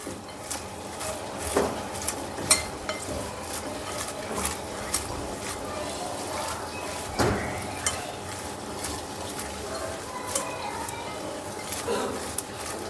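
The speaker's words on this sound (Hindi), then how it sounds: "इन सब को डालने के बाद हम इसे अच्छे से मिला लेंगे।" Cabbage being stirred and mixed with ginger paste and cumin powder in a bowl, giving soft, continuous scraping and rustling with occasional light clinks from a spoon against the bowl.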